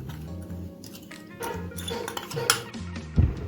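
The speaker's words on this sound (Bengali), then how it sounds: "দেখুন আমি এখন গুঁড়ো দুধটা গুলে নিচ্ছি" A spoon stirs powdered milk into a bowl to dissolve it for a bread pudding dessert, making a close, steady run of light clinks and scrapes with a louder knock near the end.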